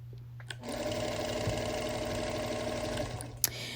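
A sewing machine quilts with white thread in one steady run of rapid stitching, starting and stopping with small clicks, close but fairly quiet.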